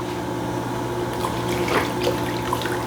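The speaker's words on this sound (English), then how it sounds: "go ahead and add some more broth to it." Broth poured into a pan for smothered pork chops, a steady liquid splash and trickle running throughout at moderate level, with a slightly louder gush in the middle.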